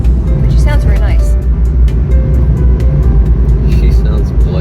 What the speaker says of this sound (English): Our car talks to us every morning in Japanese.